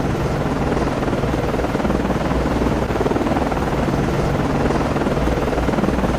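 A helicopter landing on a ship in the naval game Cold Waters, a loud, steady rotor-and-engine roar that holds constant throughout with no talking.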